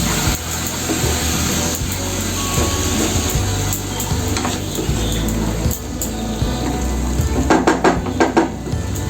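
Dry spices sizzling in oil in a pan after a little water is added, making a loud continuous hiss and crackle with spoon scrapes and metal clinks against the pot close by.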